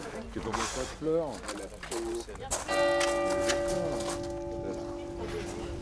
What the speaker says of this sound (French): Avec la cloche derrière, ça fait vraiment.